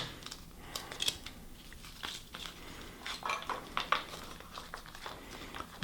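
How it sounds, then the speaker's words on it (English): Scissors snipping strips of tape while sealing a homemade alcohol jet stove, with scattered light cuts, clinks and handling noises close by against a faint background hiss. "I'm probably cutting about 3/8 of an inch off of this tape"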